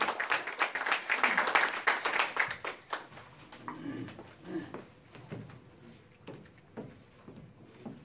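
Applause at a political party founding rally in Gyeongbuk, loud clapping from a crowd for the first few seconds, then thinning into scattered claps and room noise.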